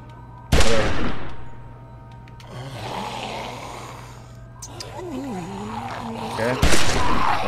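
Gunshots in The Walking Dead: Season 1 Episode 4: two loud, sharp blasts several seconds apart, with game dialogue and voices in between.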